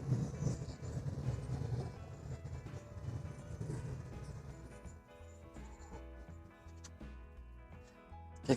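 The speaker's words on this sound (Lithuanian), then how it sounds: "tramvajus važiuoja." A tram rolls past on a German street, a rumbling, clattering pass that swells early and fades as it moves away, leaving quieter rhythmic clicks and faint street sounds.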